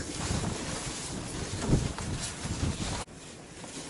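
Wind gusts outdoors buffet the microphone with a rough, rumbling roar that swells and dips, then cuts briefly near the end before returning more softly.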